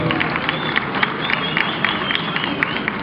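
Audience applause at a Quito festival queen election event in Madrid, a moderate, steady wash of clapping with scattered sharper claps, heard from a distance over the hall.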